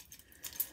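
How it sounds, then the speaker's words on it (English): A set of keys dangles off the side of a purse alongside a mace canister and several band keychains, giving a brief, faint metallic jingle midway through an otherwise quiet moment. "on this side, we have my keys, which just dangle off the side"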